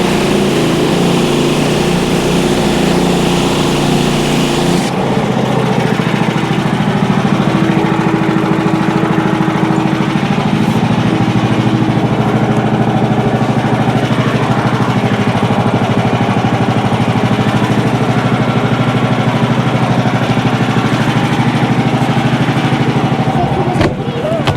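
A wood chipper runs loud and steady at close range, its engine drone continuous throughout, with a rougher, heavier stretch at the start before settling into an even roar.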